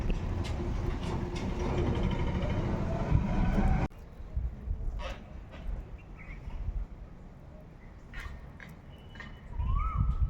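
Birds call intermittently against a rumbling, windy background, with a few short chirps and a rising call near the end.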